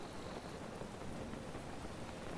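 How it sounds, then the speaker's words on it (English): Steady rain pours in The Legend of Zelda: Breath of the Wild over an open field, a dense unbroken hiss with a faint distant rumble, no voices. "It's rainy!"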